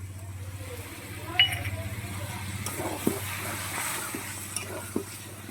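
Jackfruit curry is being sautéed in a pan with a steady low sizzle and a rhythmic stirring scrape, with occasional light clinks of the spoon over a faint background hum.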